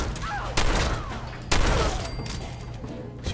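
Video game gunfire in Fallout 4: two loud close shots about a second apart, each followed by a rumbling tail and background battle noise.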